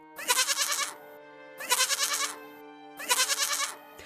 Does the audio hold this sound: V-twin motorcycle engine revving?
no